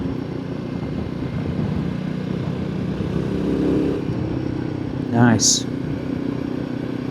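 A Royal Enfield Himalayan 450 motorcycle drones steadily on the road, its engine and wind rumble continuous and close, with a brief sharp chirp midway and a single spoken word.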